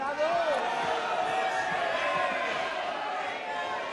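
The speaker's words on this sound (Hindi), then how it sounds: "भारत मां के बच्चों के लिए तो बजा दो" Members of India's parliament applaud during a no-confidence motion debate, producing a continuous, loud wash of clapping mixed with shouting voices across the chamber that holds steady for several seconds.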